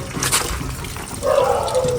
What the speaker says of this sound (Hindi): अब 1 लीटर कूलेंट और 3 लीटर पानी डालूँगा इसमें।